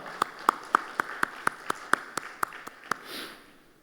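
A Korean church congregation at a dawn worship service claps in blessing and encouragement: about a dozen crisp, evenly spaced claps in a steady beat, fairly faint, ending in a soft rustle.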